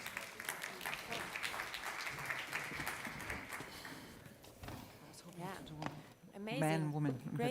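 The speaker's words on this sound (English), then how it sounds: "A round of applause," Applause at an energy tech summit main stage for panelists, a crowd clapping for a few seconds and tapering off as a speaker's voice takes over.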